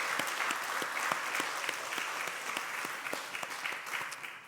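A church congregation claps together to welcome newcomers, a brisk, even burst of applause from a modest crowd that tapers off near the end.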